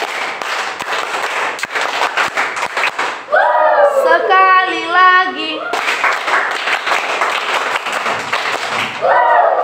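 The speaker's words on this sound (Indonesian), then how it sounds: "kita kasih dulu beri tepukan" An audience claps at a third-grade class drama performance in a school, with bursts of scattered clapping and sharp taps mixed with loud talking and children's voices, then a dense round of applause near the end.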